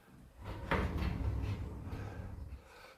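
A soft-close pocket door slides and its latch catches, giving one muffled thump followed by a smooth damped glide that fades out, close by and fairly quiet.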